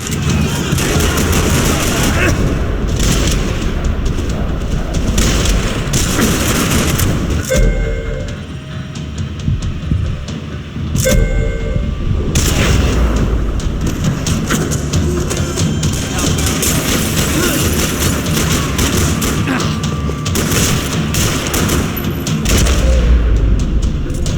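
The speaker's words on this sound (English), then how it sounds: "Another parking lot rattling with gunfire." Dense, sustained gunfire and booming blasts in a parking lot in the video game Max Payne 3, with rapid bursts continuing under a busy, loud background and occasional voices.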